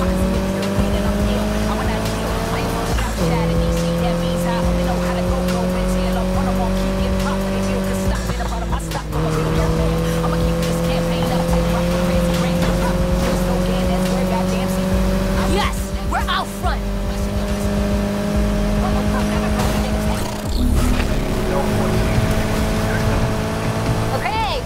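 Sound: custom Mitsubishi Evolution car driving in Need for Speed Heat video game

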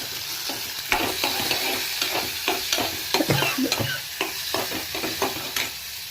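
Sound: onion and green chili frying in oil

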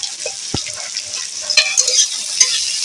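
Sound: sliced onions and garlic frying in oil

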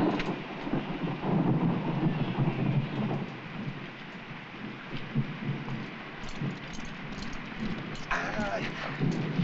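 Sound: thunderstorm with rain

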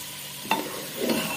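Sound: frying and stirring ginger garlic paste in a pan

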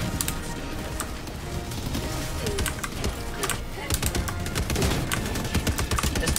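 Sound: gunfire from a recoiling weapon in video game Helldivers 2

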